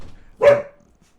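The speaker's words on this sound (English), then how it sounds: "that was my dog. She is behind me." A single loud, close dog bark from indoors, one short sharp woof in a quiet room.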